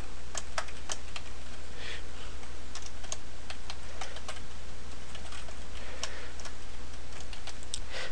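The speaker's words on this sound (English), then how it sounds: "Typing out fractions and square roots can be tedious in this." Typing on a computer keyboard while entering math fractions and square roots. Brisk, irregular keystrokes click steadily throughout over a constant low electrical hum, with no voices.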